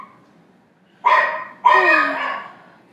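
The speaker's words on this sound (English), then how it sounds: "And that's my little doggy Bandit." A small dog yaps twice indoors, close and loud. The second bark is longer and trails off, with quiet room tone between the barks.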